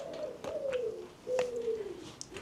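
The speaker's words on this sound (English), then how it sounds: "I can hear an owl." An owl calls outdoors with two soft, drawn-out hoots that slide downward in pitch, spaced about a second apart, fairly faint against a quiet background.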